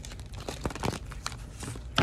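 Quick papery riffling and soft slaps as a deck of tarot or oracle cards is shuffled close by, brief and a little uneven.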